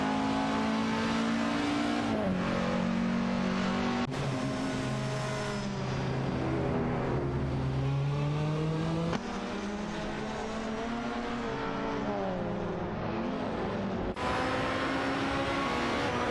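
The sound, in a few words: race cars racing in a racing video game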